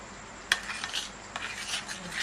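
A utensil stirs cocoa powder into cake batter in a bowl for a zebra cake, with a sharp scrape and clink against the side followed by soft, repeated swishing strokes, close and quiet.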